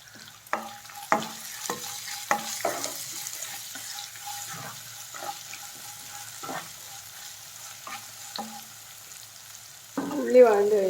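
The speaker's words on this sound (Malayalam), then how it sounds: "ഉള്ളി വഴണ്ട് കഴിഞ്ഞു" Onions and vegetables sautéing in a pan for a millet breakfast, with a faint sizzle broken by several sharp spatula scrapes and stirring clinks, then a louder burst of sizzling at the end.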